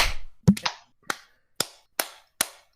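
Sharp hand claps for a sync check, six distinct slaps spaced roughly half a second apart, close and loud in an otherwise quiet room, with a brief burst of noise at the start.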